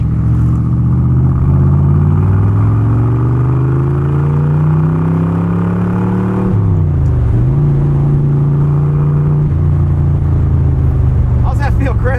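A 1966 Chevrolet Corvette L79 with a 327 cubic-inch, 350 hp V8 and four-speed manual drones steadily from inside the cabin, its pitch climbing with revs, dipping briefly at a gear change, then pulling again, while voices talk over it.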